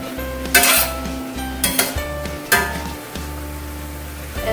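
A metal utensil scrapes and clanks against a pan while mushrooms are stirred for eggplant lasagna, several sharp clinks over a low steady cooking hum, close and fairly loud with no talking.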